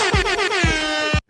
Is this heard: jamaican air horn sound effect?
yes